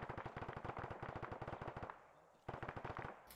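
Video game weapon firing rapid automatic bursts in a multiplayer military shooter, sharp evenly spaced shots in a long string, a brief pause, then another burst, loud and alone with no talking.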